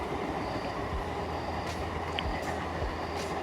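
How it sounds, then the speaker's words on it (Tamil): A train bound directly for Bangalore rumbles past up close near Hosur, a steady heavy roar with low rolling thuds and occasional brief squeals and clanks from the wheels. "இது வந்து பெங்களூருக்கு போகிற ட்ரெயின் டைரெக்டாக"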